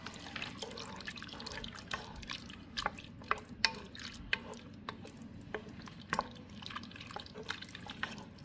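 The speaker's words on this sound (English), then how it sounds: "we're going to stir that and mix it" Pork soup stirred in a pot while camping with a hammock, giving soft, steady liquid sloshing and spoon clinks close by, without talk.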